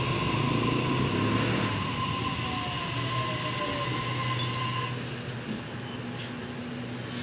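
Steady low rumble of a moving Sydney Waratah train heard from inside the carriage, with a faint whine and occasional squeal, continuous throughout.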